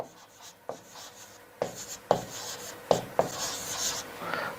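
Chalk or marker writing on a board during a maths lesson on sets, a series of close scratchy strokes with short taps and pauses, fairly clear with no talk over it.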